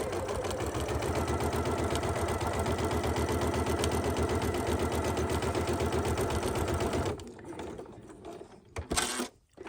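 A sewing machine runs steadily for about seven seconds, stitching a row of quilting with a size 3 stitch. Its rapid, even mechanical chatter is loud and close, and it stops with a few clunks and handling sounds.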